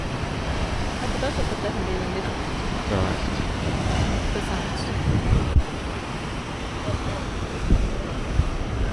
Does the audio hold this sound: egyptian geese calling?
no